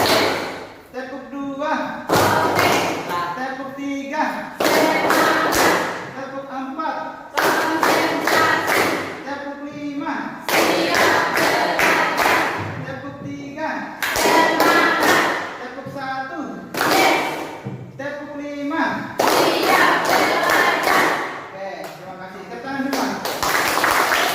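A classroom of students claps in response to a teacher's counting commands, producing bursts of quick clapping in groups separated by short pauses, with the teacher's voice speaking between the bursts.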